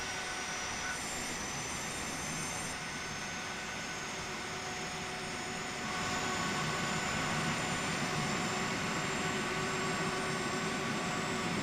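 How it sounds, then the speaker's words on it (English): Engine number 2 of a Boeing 737 Classic spools up in a flight simulator, a steady broadband jet roar with thin whining tones that grows slightly louder partway through, continuous and with no talking. "And there goes engine number 2."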